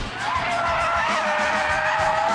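A 2006 Audi S3 on a race track sends out a sustained, loud tire squeal under engine noise as it slides.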